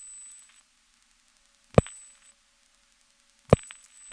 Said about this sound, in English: the flash handshake that this trunk makes when you reset it is triggering that coin class of service tone